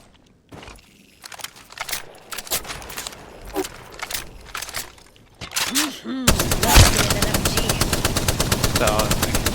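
Gunfire in Apex Legends: scattered single shots and short bursts with footsteps at first, then a long sustained rapid stream of automatic fire, loud and close, under light talk.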